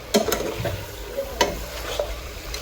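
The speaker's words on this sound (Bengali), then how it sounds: "এখন হচ্ছে আমি মাংসটা কষিয়ে নেবো সুন্দর করে" Meat fried and stirred with spices in a pan, a soft continuous sizzle broken by sharp scraping clanks of a spatula at irregular intervals, close by, without talk.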